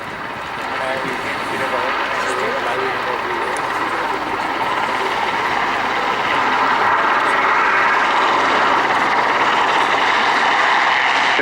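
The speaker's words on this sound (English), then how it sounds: "here is the helicopter simulating arriving on the scene and looking for a survivor" An RAF Sea King helicopter hovers during a winch rescue demonstration at RAF Cosford, giving a loud, steady broadband roar of rotor downwash and engine that holds constant and swells slightly toward the end.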